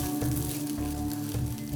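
Rice and toasted vermicelli sizzle in hot oil while being stirred in a pot, a steady close fry with soft scraping rhythm, no talking.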